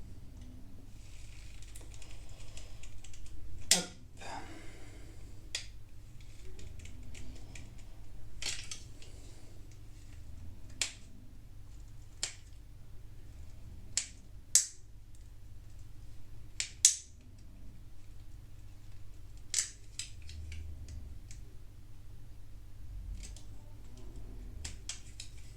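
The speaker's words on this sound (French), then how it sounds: "Et ici, on va enlever cette paroi là. Pareil au cutter." A utility knife cuts away a plastic wall on a Bruder D11 Cat model kit, producing scattered sharp snaps and clicks at irregular intervals over a quiet background, close and fairly faint.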